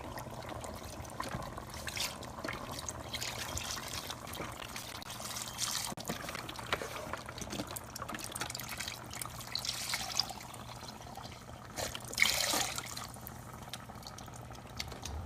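Chicken broth, 48 ounces, is poured into a big soup pot for queso chicken soup, a faint, steady trickle and splash running about fifteen seconds under quiet kitchen background.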